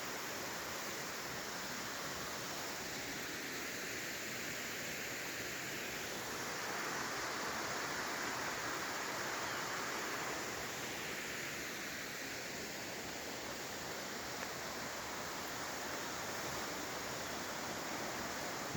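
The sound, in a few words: stream water flowing down into a ravine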